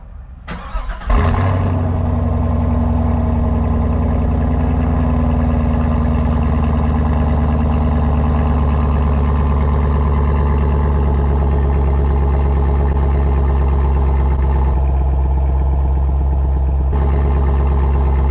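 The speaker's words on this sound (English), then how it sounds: "This is the dual mode performance exhaust, and I mean, it sounds absolutely amazing." A 2021 Chevrolet Camaro SS V8 with dual mode performance exhaust fires up with a sharp crank and roar, then settles into a loud, deep, steady idle close by, with a brief change in tone near the end.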